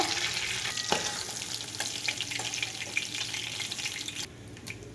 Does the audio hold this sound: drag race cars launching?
no